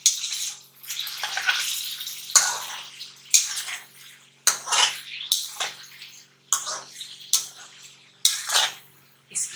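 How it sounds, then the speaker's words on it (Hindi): Chicken for a white karahi sears and is stirred in a hot karahi, giving bursts of loud, hissing sizzle that swell and fade in an irregular rhythm, close up with no talking. "अब इस चिकन को हम भूनेंगे, जरा इसको वाइट करेंगे।"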